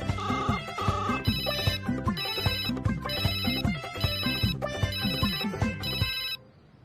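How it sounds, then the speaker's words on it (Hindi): A phone ringtone plays loudly and repeatedly, a bright electronic melody cycling in regular bursts for several seconds before cutting off. "लो घंटी जा रही।"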